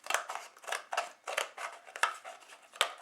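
Scissors snip repeatedly through the back of a dress form, about seven crisp, close cuts in an irregular rhythm, one sharper snap near the end, with no talking.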